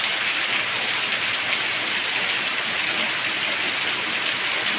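Steady, heavy rain pouring down, a constant dense hiss with no breaks and no voices.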